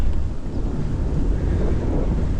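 Strong wind buffets the microphone while bike touring on a road in Korea, a dense low rumble that roars steadily throughout at close range, with no voices.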